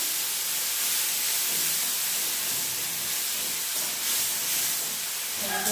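Grated tomato sizzles in a hot pan while a rohu fish curry is cooked, giving a loud, steady, close hiss of steam and spitting that runs throughout without talk.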